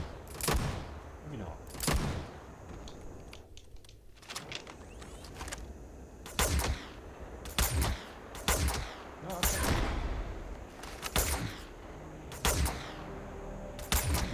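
Gunfire in the sci-fi game Starfield, with a long series of sharp, loud shots spaced irregularly, some in quick pairs, over a low background of combat noise.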